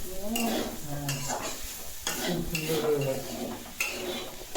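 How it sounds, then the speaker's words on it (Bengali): Potatoes frying in a pan, a continuous sizzle with stirring and utensil clinks, heard under ongoing talking voices close by. "দেখে নাও আলু ভাজার স্যান্ডটা"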